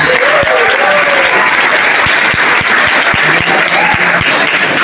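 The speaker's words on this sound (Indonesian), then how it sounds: "Boleh tepuk tangan yang meriah semuanya." Seminar participants at an Islamic institute in Banyuwangi, Indonesia, break into loud, dense applause, with a few sharp individual claps standing out from the continuous roar.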